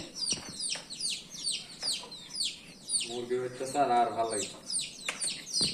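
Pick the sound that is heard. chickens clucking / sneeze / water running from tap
chickens clucking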